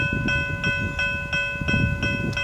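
A Brightline passenger train on a test run rolls past close by at a road crossing, wheels clicking over rail joints in a regular rhythm while a steady bell or horn tone rings over it.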